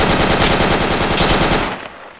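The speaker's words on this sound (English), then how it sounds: "Who's firing here, please?" Rapid automatic gunfire in the military shooter game Project Reality, a loud sustained burst of fast shots that cuts off near the end.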